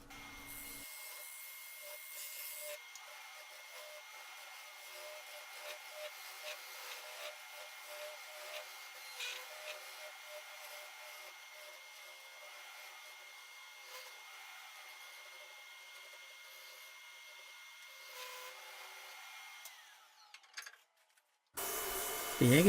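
A segmented wooden egg spins on a wood lathe while the top is shaped, giving a steady, moderately loud hiss and scrape of cutting across the whole span. It ends with a brief pause and a louder final knock.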